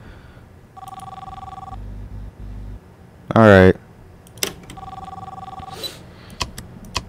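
A telephone in the Popgoes video game rings in short repeated tonal bursts amid game noises and beeps, with someone briefly talking over it.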